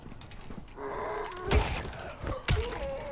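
A hatch or door in Dying Light bangs open with two heavy thuds about a second apart, close and loud, amid mechanical clanks and a low groan, with no speech.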